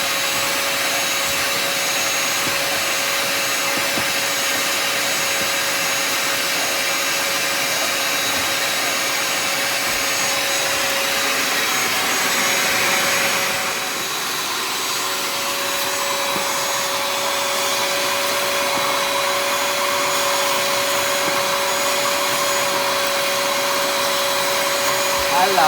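A vacuum cleaner runs continuously on a dirty carpet, giving a loud, steady motor roar with a brief dip in pitch midway, close to the listener.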